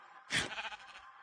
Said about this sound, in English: Might as well breed the sheep.